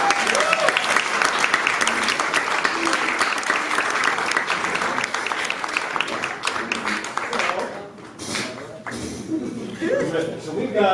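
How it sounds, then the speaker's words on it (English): A theatre audience at a magic show applauds steadily, a dense wash of clapping with a few chuckles that dips briefly near the end before swelling again. "And everybody give her a big round of applause."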